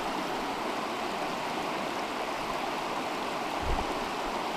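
A side channel of a taiga river leading to the mouth of the Belaya river flows in a steady, even rush of moving water, close and continuous with no voices.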